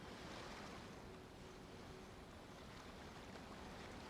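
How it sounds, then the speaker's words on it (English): Ocean waves at Liyue Harbor in the video game Genshin Impact, a steady broad wash of surf with a windy rush, continuous and fairly even throughout with no talking. "Oh, and the sound of the waves."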